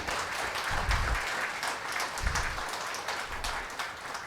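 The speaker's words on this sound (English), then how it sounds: "Huge round of applause for task force team." Audience applause at a corporate HR conference, a steady wash of many hands clapping that fills the whole stretch at moderate loudness, with no talk over it.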